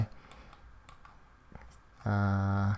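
Computer keyboard and mouse clicks while editing video on a computer: sparse, faint, sharp clicks in a quiet room, followed by a short, steady electronic tone near the end.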